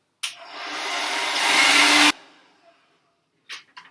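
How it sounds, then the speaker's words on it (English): A hairdryer blows loudly for about two seconds, a steady whooshing roar that cuts off abruptly, followed by quiet and faint handling sounds. "you can blast it with a hairdryer"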